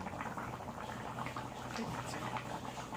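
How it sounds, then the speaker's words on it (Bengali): Rice boiling in a pot on a home stove gives a steady, dense bubbling and simmering, continuous and fairly close throughout, with no talking over it. "ফুটছে আর একটু আর একটুখানি কম হবে তারপরে নামিয়ে দেব"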